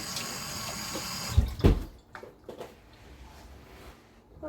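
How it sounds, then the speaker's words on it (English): A kitchen tap runs while hands are washed under it, a soft hiss of water at first, then brief splashes and clunks before the flow dies to faint trickling, fairly close. "Okay, so wash my hands a little bit again."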